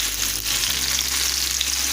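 Herb potatoes sizzling in a skillet, a loud close crackling fry with a brief shift as they are flipped, dense and unbroken for two seconds with no voices.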